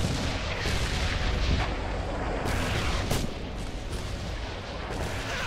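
An F1 grenade and battle noise in the Red Orchestra war game make a continuous loud roar of booms and gunfire with sharper blasts scattered through it, and no clear single isolated explosion stands out.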